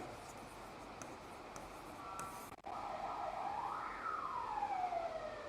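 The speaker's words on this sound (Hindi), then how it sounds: "फिर एम्बुलेंस कहाँ से आ गई?" An ambulance siren wails outside, faint at first and then rising into a clear sweeping tone that continues over low room noise.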